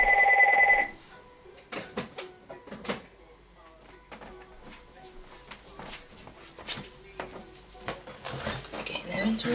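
Telephone ringing indoors, a short electronic tone burst at the start that then gives way to clattering dishes, handling knocks and a person talking over the rest.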